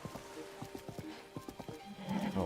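A horse in a Nintendo Switch 2 video game gives a short whinny. Rhythmic clip-clop hoofbeats carry on steadily throughout, and a rougher burst of noise comes near the end.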